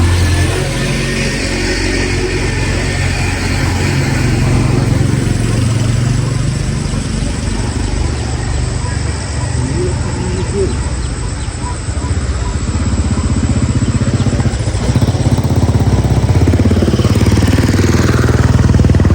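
A motorbike engine runs steadily while riding on a rough mountain road to Manang, giving a loud, close, continuous drone with slight surges. Wind noise is mixed in throughout.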